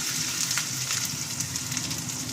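Ginger and tomato fry in a pan for a dhoka curry, giving a soft, steady sizzle with faint crackles at moderate distance and no talking.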